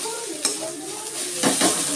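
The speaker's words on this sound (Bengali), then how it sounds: "আমার ভাজাটা হয়ে গেছে" Bottle gourd peel sizzles softly in a pan, with a couple of sharp spatula scrapes and clinks against the metal as it is stirred, close and without talk.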